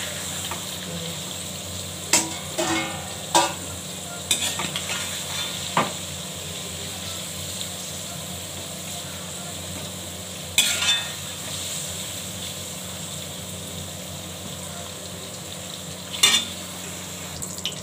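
Paneer frying in a pan with tempering spices, a steady low sizzle running throughout, broken by a few sharp clinks and scrapes of a utensil against the pan, with no voices.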